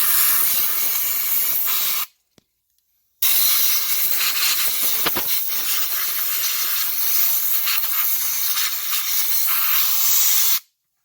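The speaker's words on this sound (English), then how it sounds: "take some compressed air, try to blow it out" Compressed air blasts steadily through a Honda CR-V blower motor to clear out sprayed cleaner, a loud continuous hiss broken by one brief pause and ending abruptly.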